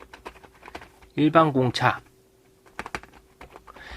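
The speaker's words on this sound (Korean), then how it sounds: "이런 식으로 계속 타이핑 쳐주시면 되는 겁니다" Computer keyboard typing while drafting notes in CAD software: scattered light clicks and a few quick runs of keystrokes, close and soft, with a short burst of speech in the middle.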